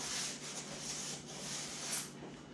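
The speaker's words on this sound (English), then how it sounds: "I might just sand that off" A sander working styrofoam while pre-shaping a homemade 10 ft fishing kayak, giving a steady, close, rough rubbing hiss that swells slightly with each stroke and runs continuously without talk.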